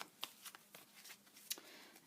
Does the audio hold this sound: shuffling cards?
yes